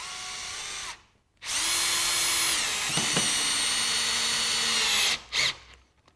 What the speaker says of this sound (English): grab one of these melamine screws for you and drive it into a piece of melamine